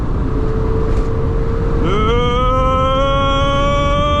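A Mazda MX-5 Miata's engine drones, then rises sharply in pitch as the car accelerates hard from 0 to 60, heard loud and close from inside with road noise underneath.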